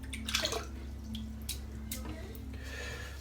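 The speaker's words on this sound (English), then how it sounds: "just shook out most of the water there." A large 26mm synthetic shaving brush being shaken out over a sink, a few quick wet flicks and splashes of water close by, with dripping in between and a low steady hum underneath.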